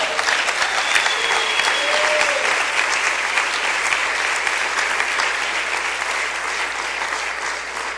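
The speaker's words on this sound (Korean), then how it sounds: "fuerte aplauso de gloria." Congregation at a church seminar giving a strong round of applause, sustained dense clapping from a crowd, loud and steady before easing off toward the end.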